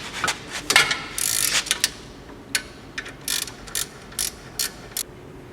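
A ratchet loosens the 17mm caliper bolts during a CV axle shaft replacement, with bursts of sharp clicking followed by a series of short, evenly spaced ratcheting strokes, close and fairly loud.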